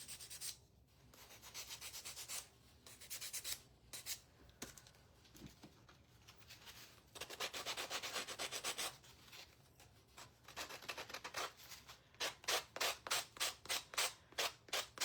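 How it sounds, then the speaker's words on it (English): Gator power sander working wood on a patriotic star craft piece, a steady close scratchy rubbing that ends in a run of quick rhythmic strokes. "And then we can take our sander."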